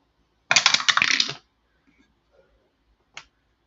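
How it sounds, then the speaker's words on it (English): Dice are rolled for a tabletop baseball game: a short rattling clatter of dice tumbling on a hard surface, then one small click afterward, with the room otherwise quiet. "re-roll of dice"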